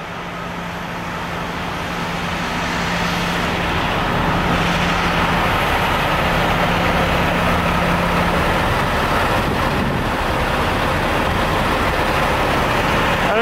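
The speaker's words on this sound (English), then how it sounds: "We have a truck here that's been idling now for about 20 minutes." A large truck idles on a street outside Barclays Center in Brooklyn, its engine a loud, steady broadband drone that swells slightly early on and holds amid surrounding traffic noise.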